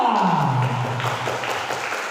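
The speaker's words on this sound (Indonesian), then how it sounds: "Sekali lagi mana tepuk tangannya?" Audience applause at a girls' Islamic quiz competition starts up under a fading voice, a steady patter of many hands clapping at moderate loudness across the whole moment.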